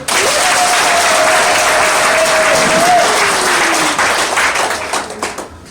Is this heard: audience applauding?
yes